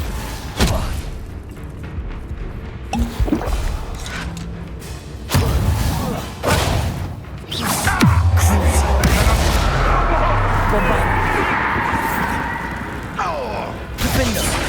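Confringo fire spell casts in Hogwarts Legacy amid combat, several sharp thuds and bursts followed by a long roaring, crackling spell blast, with a voice speaking briefly.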